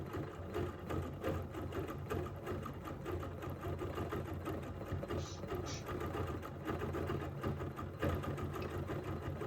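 A sewing machine runs steadily while couching fibers over a stitched design, its rapid needle chatter even and continuous at moderate volume throughout, with no voices.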